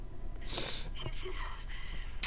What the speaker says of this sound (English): sorry about my sniffles, guys